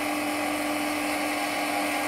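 A Tesla coil generator at a science show runs with a steady, loud, high electric whine and buzz that holds unbroken for about two seconds.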